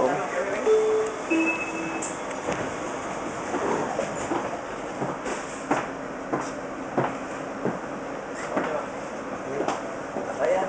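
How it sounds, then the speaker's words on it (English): Inside a moving Metrorail train, steady rail rumble with scattered clicks and knocks from the carriage, with people talking over it throughout. "Well, this is the Metrorail train."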